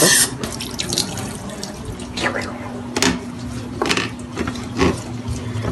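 Water runs from a kitchen tap in a steady stream, splashing and gurgling into a sink with a few brief louder surges, close to the microphone.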